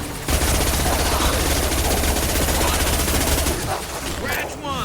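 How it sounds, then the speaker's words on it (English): A high impact weapon shot in a Mass Effect game erupts as a loud, sustained rapid-fire barrage lasting several seconds before cutting off, followed by a quieter mechanical whir, with voices heard over the fire. "Firing a high impact shot."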